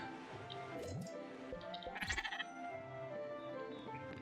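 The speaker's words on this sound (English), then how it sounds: "They're sheep." Sheep bleat in the video game Spiritfarer, with a couple of short, nasal bleats around the middle over soft ambient game music and faint clicks.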